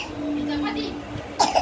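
A person coughs twice in quick succession near the end, sharp and close, after a stretch of soft talking in an indoor home setting.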